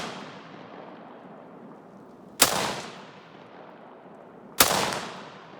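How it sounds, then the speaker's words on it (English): Two loud Steyr AUG rifle shots ring out a couple of seconds apart, each a sharp crack followed by a long echoing decay outdoors. "I'm gonna kind of get down and try to take a little bit better of a shot."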